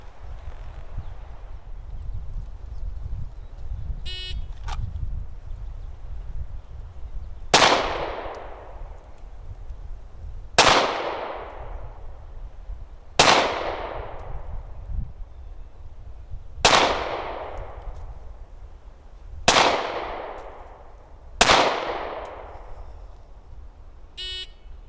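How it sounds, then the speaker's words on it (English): Six sharp, loud gunshots from an IWI Masada pistol fired from a standing position at 25 yards, spaced a few seconds apart, each with a ringing decay, and no talking. "So I'll fire these from a standing position"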